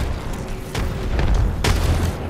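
Grenade blasts in an Apex Legends battle royale fight, two sharp close bursts with rumbling low tails over continuous gunfire-like noise and game ambience.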